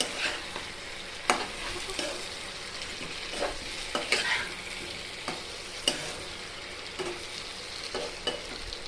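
A spoon stirs chicken curry with potatoes in a frying pan, with soft continuous sizzling broken by irregular scraping and clinking strokes against the pan, close and moderately quiet.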